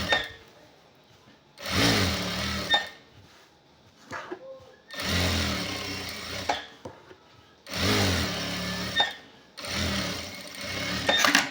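A sewing machine stitches a shoulder seam on a checked shirt in four loud, close bursts of rapid mechanical whirring, separated by quiet pauses and small handling clicks.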